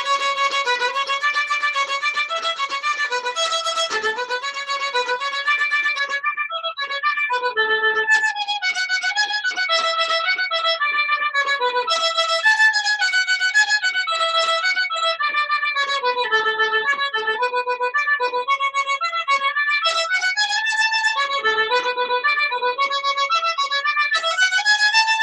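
Solo violin playing a very quick variation of Perpetual Motion in doubled notes, a steady unbroken stream of rapid bowed pitches at even loudness, close and clear with no talking.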